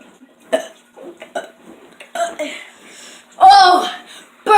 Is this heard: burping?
yes